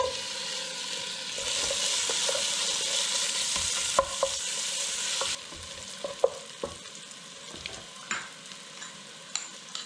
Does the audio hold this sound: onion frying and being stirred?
yes